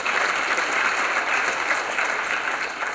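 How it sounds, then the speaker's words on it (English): Steady, dense applause fills a faculty meeting hall as a new committee member is introduced, an even wash of many hands clapping with no one talking over it. "We'll give her a clap and an extension."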